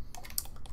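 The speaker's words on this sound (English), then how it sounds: "Hit 3 on my keyboard." A single key press on a computer keyboard while working in 3D modeling software, a faint short click set against low room noise.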